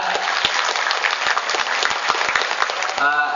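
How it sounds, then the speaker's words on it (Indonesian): Applause from an audience at a student orientation event at UHAMKA university campus, steady dense clapping filling the room for about three seconds, with a voice starting to speak near the end. "tepuk tangan buat kita"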